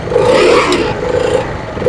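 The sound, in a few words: motorcycle engine running after standing in rain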